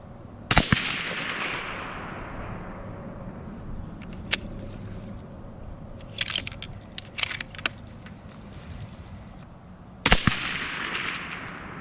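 Mossberg Patriot Predator rifle firing Hornady 140 loads outdoors: two sharp, loud shots several seconds apart, each with a long rolling echo, and faint clicks and handling noises in between.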